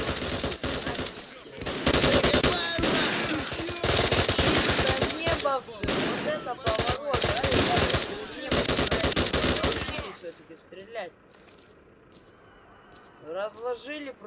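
Sustained machine gun bursts from a firefight in the S.T.A.L.K.E.R. video game, loud rapid automatic fire repeating for about ten seconds, then quieter ambient game sounds with a person talking briefly near the end.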